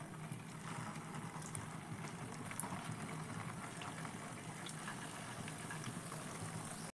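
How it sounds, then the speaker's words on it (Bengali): Semolina pithas fry in medium-hot oil in a wok, giving a steady, soft bubbling hiss with scattered small crackles, fairly faint and even throughout. "এই মিডিয়াম তেল গরম অবস্থায় আমি একে একে পিঠেগুলো দিয়ে দিচ্ছি।"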